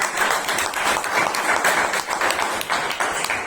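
A Toastmasters meeting audience in Bangalore giving a round of applause, steady, even clapping from a roomful of people sustained at a constant level throughout.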